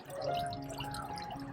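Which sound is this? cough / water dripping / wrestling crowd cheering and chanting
water dripping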